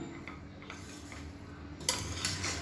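Steamed mint rice gently turned with a spoon in a pot, soft sparse clinks and scrapes of utensil on metal, quiet and close, a little busier near the end.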